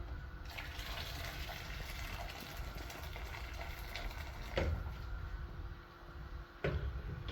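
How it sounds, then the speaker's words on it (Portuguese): Water gushes steadily into a pressure cooker holding cow's foot (mocotó) for cow's foot jelly, a continuous close pouring splash that briefly dips and swells near the end, with no talking. "já colocamos aqui a mão de vaca, ou o mocotó, na panela de pressão. Vamos estar completando com água."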